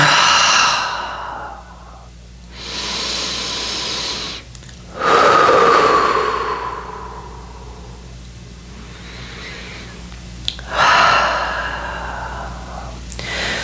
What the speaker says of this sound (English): Finding some cleansing breath.